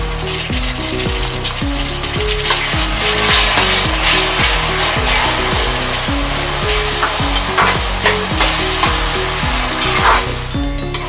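Tomatoes sizzle in hot oil in a pan for restaurant-style chicken gravy, with a steady, fairly loud hiss and crackle. Rhythmic music with a repeating bass line plays underneath throughout, and no one speaks.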